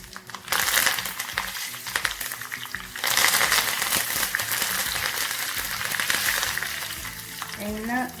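Mustard seeds, fenugreek and chillies sizzle and crackle steadily in hot sesame oil for a Kerala mango pickle, a close, dense frying hiss with scattered pops and brief clinks, continuing for several seconds.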